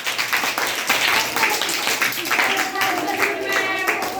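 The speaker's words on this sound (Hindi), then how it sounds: "ताली बजाओ।" Children in a classroom clap their hands together in a quick, steady, continuous patter, with young voices calling out over the applause.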